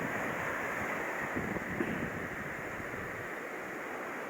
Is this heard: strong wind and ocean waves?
yes